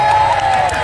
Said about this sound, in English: The crowd went wild just watching the pre-show.